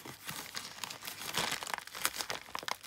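A paper envelope is handled and crinkled up close, giving a steady run of dry rustling and crackling bursts with a few sharper crunches, with no voices.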